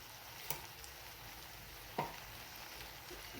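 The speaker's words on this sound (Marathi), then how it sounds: "लसूण पेस्ट दोन मिरची आणि जिरे याला छान परतून घेऊयात" Garlic paste, green chillies and cumin sautéing in a pan give a faint, steady sizzling hiss, broken by two sharp spoon clicks against the pan.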